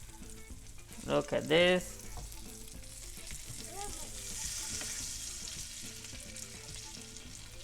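Lemon scaloppine fry in a pan with a continuous soft sizzle and occasional stirring clatter, while a voice briefly speaks over it near the start.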